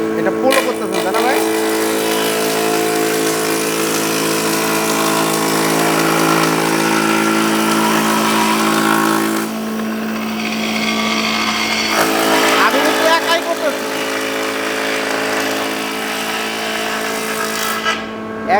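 A seven-in-one multi-purpose woodworking machine for furniture making runs with a steady loud motor hum and layered whine, a louder cutting burst near the end, with people talking over it throughout.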